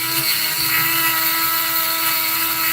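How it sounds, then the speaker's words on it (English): Dremel rotary tool with a taper bit grinding a handheld workpiece down to a fine line at a bench, a steady, loud high-pitched whine with no pauses. "So I'm Dremeling down to a fine line"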